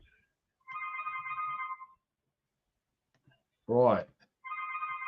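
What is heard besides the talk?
telephone ringing in the background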